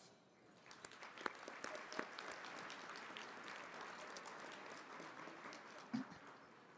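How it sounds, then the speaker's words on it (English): Faint, distant audience applause in a large banquet hall at an engineering awards dinner, steady clapping that swells and holds for several seconds with a few sharper claps. "So what about a applause for the staff?"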